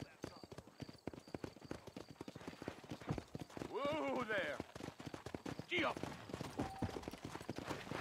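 Rhythmic clip-clop of horse hooves galloping in the video game Red Dead Redemption, a fast steady beat with a brief horse whinny midway and faint game ambience.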